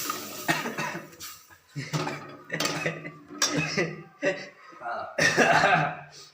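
A utensil stirs tomato ketchup in a pan while chicken manchurian is cooked, with irregular clinks and scrapes of metal against the pan amid ongoing conversation.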